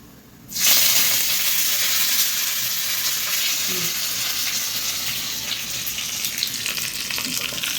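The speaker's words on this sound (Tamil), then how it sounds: "சட்னி தாளிச்சாச்சுங்க காஞ்ச மிளகா போட்டிருக்கான் கடுகு கருவேப்பில்லை" Mustard seeds, dried chillies and curry leaves crackle and sizzle in hot oil as a tempering for thandu chutney, a loud sudden hiss that settles into a steady frying fizz.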